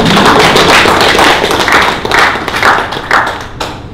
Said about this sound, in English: If you must clap, clap very well.